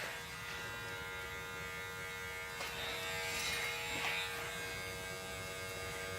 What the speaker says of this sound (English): I'm gonna open my clipper.